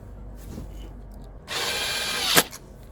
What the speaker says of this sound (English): Now to put the bolts on, or the nuts on, and then bolt.